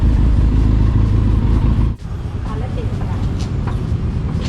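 A Benelli TRK motorcycle with its stock exhaust revs steadily at a roadside stop, a loud continuous engine drone with a brief dip midway before the revving resumes, people talking faintly in the background.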